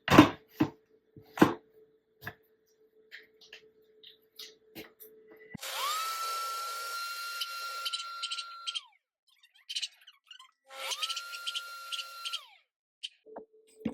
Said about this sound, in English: Alright, so here we have these and I will blend it